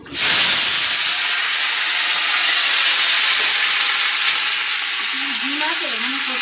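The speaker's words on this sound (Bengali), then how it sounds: "আর এই তেলটার মধ্যেই আমি এতটা বরবটি দিয়ে দেবো" Yardlong beans hit hot oil seasoned with nigella seeds and sizzle loudly, a dense steady hiss from the first moment to the end, with a voice briefly heard near the close.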